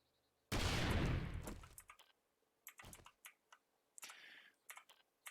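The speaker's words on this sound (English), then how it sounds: "I'm going to try the contact grenade here." A contact grenade going off in 7 Days to Die, one sudden loud blast that fades over about a second and a half, followed by scattered sharp clicks and small impact pops, with no talking.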